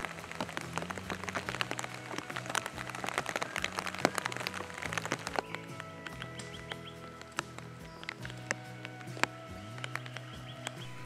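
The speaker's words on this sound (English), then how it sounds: "the rain returned, forcing me to go home" Steady rain falls outdoors, with many sharp drops pattering on surfaces over a dense hiss, plus some low rumbling, continuing for the whole stretch with no talk.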